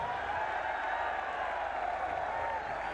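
A large crowd at a PTI political rally (jalsa) for Imran Khan in Gujranwala applauding, a dense, sustained wash of clapping and crowd noise that holds steady and loud throughout.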